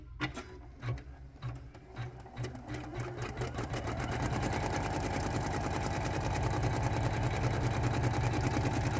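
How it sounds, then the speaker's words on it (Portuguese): Janome Memory Craft embroidery machine stitching on lace, starting with a few slow separate needle strokes that speed up into a fast steady rhythmic whir, close and loud, no talking. "aqui eu vou pôr a máquina para poder funcionar e vocês verem o barulho dela"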